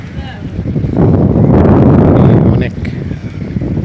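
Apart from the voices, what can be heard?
cold wind blowing at the seashore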